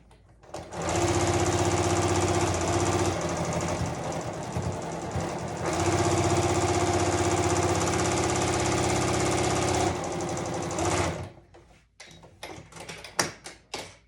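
A sewing machine runs a quarter-inch seam on a boxy bag in two long steady bursts of fast, buzzing stitching, close and loud, followed by brief clicks and handling noises.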